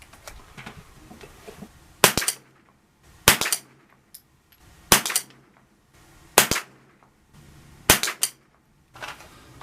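Five sharp gunshots from a High Standard Sport King .22 pistol firing Aguila Super Extra ammunition, spaced about a second or more apart, loud and close, with quiet handling noise between shots and no talk.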